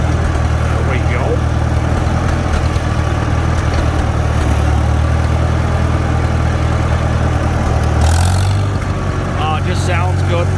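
A Farmall Super M-TA tractor engine idles steadily and loudly nearby, a constant low rumble throughout, with someone talking over it.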